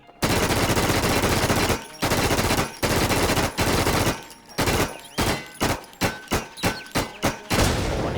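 A QBZ-95 rifle fires in the online survival shooter Infestation, first in long sustained automatic bursts and then in a run of quick, evenly spaced shots, loud and close.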